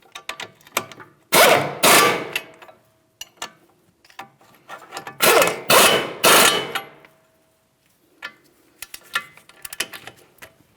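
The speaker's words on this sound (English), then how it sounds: "We're going to torque each of these to 166 foot-pounds." A torque wrench ratchets while tightening the front strut nuts on a Ford Edge, heard as several quick bursts of sharp metallic clicking separated by short pauses, close and fairly loud.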